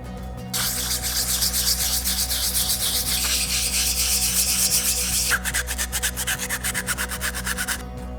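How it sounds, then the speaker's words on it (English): Rapid back-and-forth sanding strokes rasp loudly against a hard 3D-printed plastic prop, continuous for several seconds, then shorter quicker strokes before stopping, over a low steady hum. "I'm sanding off all the high spots."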